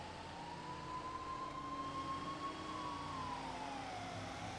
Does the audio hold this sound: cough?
no